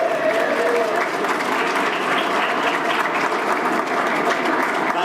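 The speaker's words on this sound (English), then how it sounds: "Let's give them a round of applause." Audience at a Founders Day community event at a country club in Trophy Club, Texas, applauding steadily and fairly loudly for about five seconds, a dense even wash of clapping without talk.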